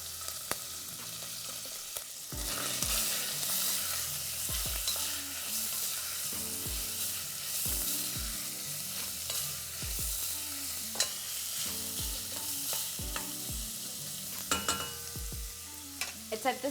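One whole sliced onion sizzles in a pan for beef stew, a steady frying hiss punctuated by repeated scraping knocks of stirring every second or so, close and moderately loud with no talking.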